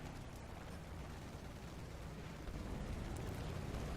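Aircraft machine guns firing in War Thunder, a faint, muffled, steady rumble of continuous fire beneath engine drone, quiet and distant-sounding throughout.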